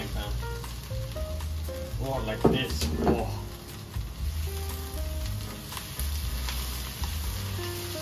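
Swedish falukorv sausage sizzles in a frying pan while it is cooked for korvstroganoff, with a steady crackle under a person talking briefly and a few kitchen clatters.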